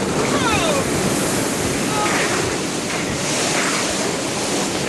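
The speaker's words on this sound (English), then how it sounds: "1992, Typhoon Omar in Guam." Typhoon Omar battering Guam in 1992: a roaring, unbroken wall of wind noise mixed with crashing surf, loud and dense throughout.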